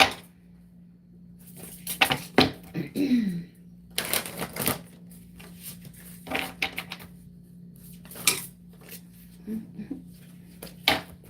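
Tarot cards being drawn and handled from a deck, a series of short, sharp clicks and taps with brief rustles scattered across the clip, set against a steady low hum, with no voices.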